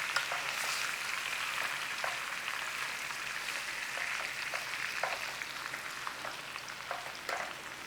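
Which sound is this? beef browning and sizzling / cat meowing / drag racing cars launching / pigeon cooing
beef browning and sizzling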